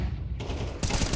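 Loud gunfire from Apex Legends in a pro match on Mirage, a dense burst of shots with a sharp new volley near the end, packed and close.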